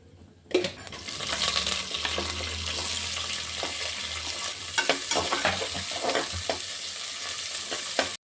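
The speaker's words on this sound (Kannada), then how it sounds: "ಸ್ವಲ್ಪ ಸಾಸಿವೆ ಕಡಲೆಬೇಳೆ ಮತ್ತು ಸ್ವಲ್ಪ ಉದ್ದಿನಬೇಳೆ ಅಥವಾ ಹೆಸರು ಬೇಳೆನ ಹಾಕಿ ಹಸಿಮೆಣಸು ಮತ್ತು ಈರುಳ್ಳಿನ ಹಾಕ್ಕೊಂಡು ಫ್ರೈ ಮಾಡ್ಕೊತಾ ಇದ್ದೀನಿ" Mustard seeds, chana dal, urad or moong dal, green chilies and onions frying in hot oil, a steady crackling sizzle that starts suddenly, with popping seeds and repeated ladle scrapes and clinks against the pan, close.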